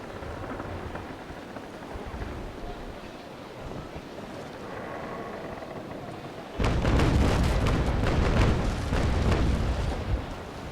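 Ship cannons fire a broadside in the naval combat game Naval Action. A sudden loud, roaring barrage erupts after a low, steady, rain-like wash of ambient noise and rumbles on for several seconds.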